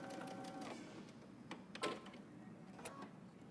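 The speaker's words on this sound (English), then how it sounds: "I'm just going to sew along my hem" A sewing machine runs along a dress hem in short quiet bursts of stitching, with brief pauses and small clicks between runs.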